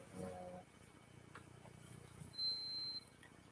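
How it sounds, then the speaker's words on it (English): A single electronic beep from a device somewhere in a house, thin and high-pitched, lasting about half a second, heard faintly over a quiet room with some low background voice and rustle. "See, did you hear the beep?"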